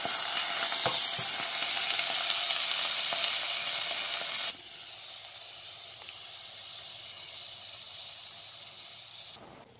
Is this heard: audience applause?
no